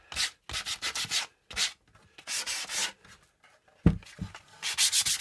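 Wood is rubbed hard to give it a distressed, aged look, heard as a series of quick, rhythmic scraping strokes in bursts with brief pauses, close up in a woodworking shop.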